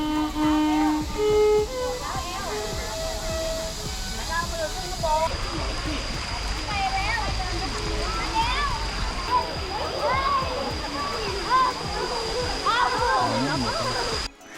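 Waterfall near the Myanmar border in Thailand, a steady rushing splash of water with many visitors' voices and chatter throughout, fairly close and continuous.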